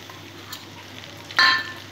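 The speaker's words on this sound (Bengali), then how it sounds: "জিরে, শুকনো লঙ্কা, এলাচ আর দারচিনি ফোড়ন করে নেব।" Whole spices, cumin, dried red chili, cardamom and cinnamon, crackle and sizzle in hot oil in a pan, a low steady fry with a brief louder burst of sputtering near the end.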